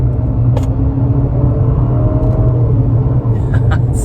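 A 2022 Infiniti QX55 accelerating on the road, a steady low engine and road rumble filling the cabin at constant loudness, with a couple of faint higher chimes or clicks.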